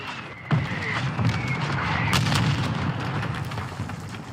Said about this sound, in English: Cruise missile ready to deploy.